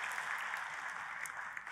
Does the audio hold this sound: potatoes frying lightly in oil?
no